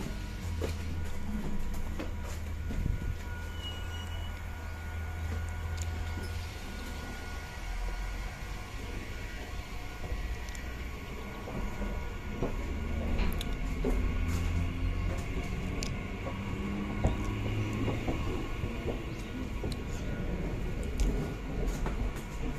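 An ICF coach train pulls away from platform 5 at Krishnapur railway station with a long, low, steady rumble and faint rattling that swells slightly as it moves off, quiet and somewhat distant throughout.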